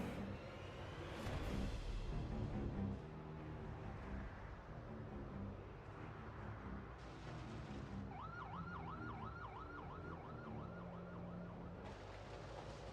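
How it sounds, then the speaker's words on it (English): A siren going off in Project Zomboid, heard as a distant wailing tone that rises and falls repeatedly in the later half, faint over low rumbling game ambience. "Okay, that was a siren that just went off."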